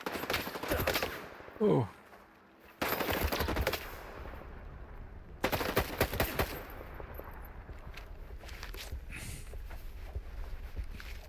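Gunfire in the video game S.T.A.L.K.E.R. 2, rapid bursts of shots in a few separate volleys against a rough ambient background, with a brief exclamation from a voice partway through.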